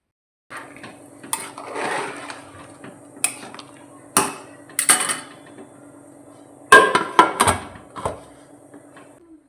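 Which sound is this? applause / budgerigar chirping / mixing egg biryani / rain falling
mixing egg biryani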